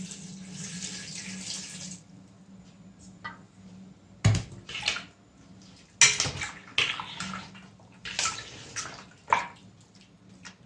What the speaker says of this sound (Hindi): अब इसमें डालेंगे पानी, साथ ही पानी डाल देंगे।